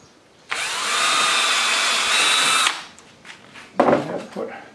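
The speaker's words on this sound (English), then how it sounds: "I can go ahead and drill my pilot hole." A power drill bores a pilot hole for a support rod on a stand, a steady loud whir lasting about two seconds before stopping, followed by brief handling clatter.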